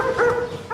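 A police dog gives a couple of short, close barks, with a brief pause between them.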